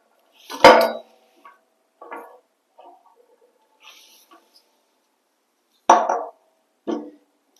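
Metal handle of a paddock stand for a Kawasaki Ninja 1100SX handled and fitted, a loud metallic clank followed by scattered lighter clinks and taps, close and separated by quiet gaps, ending with two more firm knocks.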